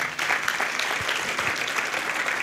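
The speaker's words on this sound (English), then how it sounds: "Let's clap for Jesus." A church congregation claps during a service, giving dense, steady applause that fills the whole short stretch at moderate volume with no voices on top.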